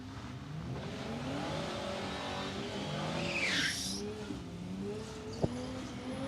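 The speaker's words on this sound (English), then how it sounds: "Tom O'Sullivan getting plenty of heat in the tyres. Nice big smoky burnout from him." A drag racing car doing a smoky burnout at Palmyra Raceway in Australia, a sustained engine roar with rising revs and squealing tyres heard from a moderate distance, a sharp crack near the end.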